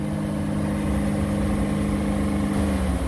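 A 2018 Ram ProMaster 1500 van with about 60,000 miles holds a steady raised engine hum, likely revved to around 3,000 RPM, a continuous droning note heard from inside the cab without speech.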